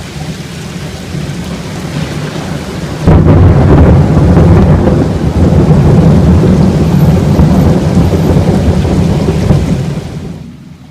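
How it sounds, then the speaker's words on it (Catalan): A thunderstorm moving away, with powerful thunder rolling loudly over steady heavy rain; a deeper rumble swells in about three seconds in and keeps going before fading near the end. "La tempesta s'allunya, però encara hi ha descàrregues importants, amb trons força potents."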